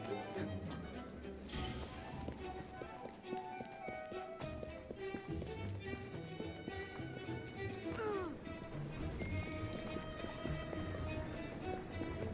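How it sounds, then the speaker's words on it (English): A horse galloping in a video game, rapid clip-clop hoofbeats running continuously under game music and effects, with a brief whinny-like sweep partway through and a voice talking over it. "Killed by the damn horse."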